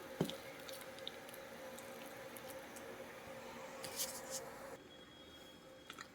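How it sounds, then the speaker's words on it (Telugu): Garelu batter mixed by hand gives soft, faint, wet squishing and light patting sounds, close and quiet over a low background hum. "గారెల పిండి ఎప్పుడు కూడా మనం ఇలా చేత్తో మొత్తం ఇలాగా ట్యాప్ చేసుకుంటూ మిక్స్ చేసుకుంటే"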